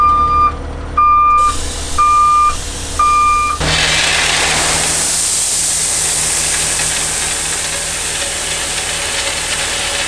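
A big truck rig carrying a gravel load backs up with four loud evenly spaced reversing beeps over a diesel engine idle, then a loud hissing rush as the load spreads while the engine rumbles on.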